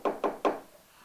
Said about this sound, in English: another wee knock at the door.